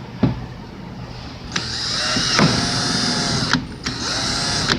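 A power drill bores a pilot hole into a vehicle headlight housing for a hidden strobe light, whirring in several high-pitched bursts with short pauses between, close and loud, the pitch wavering as the bit bites into the plastic.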